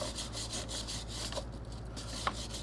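A stiff bristle brush scrubs the drive chain of a Ducati Monster 696, giving a steady, quiet, continuous rasping rub with no talking.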